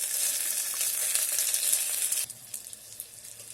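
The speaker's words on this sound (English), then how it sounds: "Fry this for 2 minutes" Tomatoes, carrot, capsicum and green peas fry in an electric kettle, giving a steady close sizzle that eases off slightly partway through, with faint stirring scrapes and no talking.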